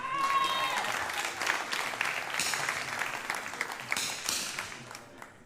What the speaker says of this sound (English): when you get an applause like that